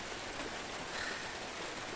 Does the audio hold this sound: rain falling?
yes